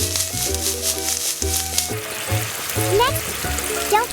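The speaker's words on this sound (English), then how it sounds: "We need some cooking oil. Perfect. Add onions, garlic, and chili first." Onions, garlic and chili sizzling in cooking oil in a miniature pan, a steady close crackle of frying with repeated stirring scrapes and light clinks.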